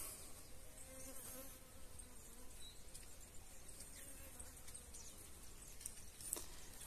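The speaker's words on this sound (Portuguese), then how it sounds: "Abelha lá." Bees buzzing steadily around a newly placed beehive box set out in the woods, a faint, continuous hum with occasional insects passing close, no talk.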